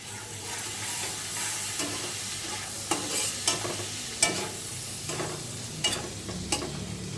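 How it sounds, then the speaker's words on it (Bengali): Spice masala of red chilli powder, salt and turmeric with a little water, frying in oil and being stirred, a steady soft sizzle broken by several sharp scrapes and clicks of the utensil against the pan. "তেলের মধ্যে ভালো করে মশলাটা আমি কষিয়ে নিচ্ছি"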